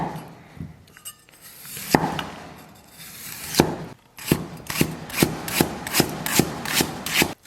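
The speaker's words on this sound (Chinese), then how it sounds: "姜给它切片。" A knife slices ginger on a cutting board, starting with some rubbing and clatter, then settling into a steady run of about ten crisp, evenly spaced chops close by.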